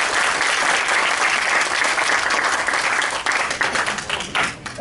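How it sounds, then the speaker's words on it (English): A workshop audience at a mobile developer event applauds loudly and steadily, and the clapping thins slightly toward the end. "Another round of applause, please."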